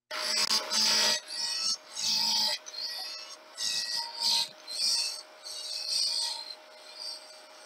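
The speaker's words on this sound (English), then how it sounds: "I'm going to turn this into a cylinder with a roughing gouge" Wood lathe spinning a blank while a roughing gouge shapes it into a cylinder, giving repeated scraping, rasping bursts of cutting with a steady faint hum beneath, close and fairly loud.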